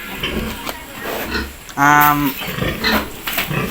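Pigs on a pig farm give a loud, close squeal-grunt midway, with softer grunting and shuffling around it while a person talks nearby.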